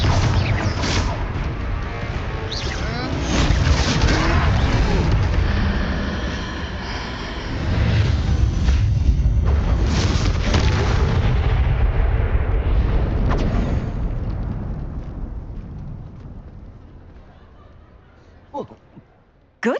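In Hogwarts Legacy, Confringo blasting spells fire off during a troll fight as a dense, roaring rumble of explosions and crashes that swells, eases and then fades out, heavy and continuous, with a few sharp hits at the end.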